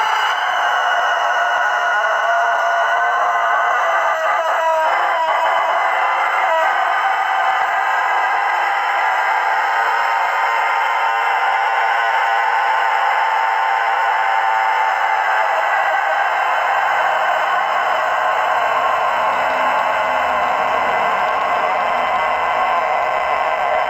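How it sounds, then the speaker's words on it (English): A rooster crows loudly over a dense, steady wash of noise, the long drawn-out call blending into a sustained bright tone that fades into a quieter tail. "Let's hear this rooster."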